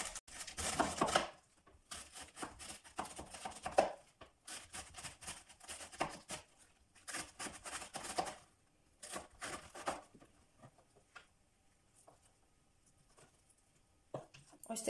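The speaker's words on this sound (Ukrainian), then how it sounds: "Далі нарізаємо білокачанну капусту." A knife chops white cabbage into pieces of about 1 cm, with quick rhythmic bursts of cutting separated by pauses. A person talks in between.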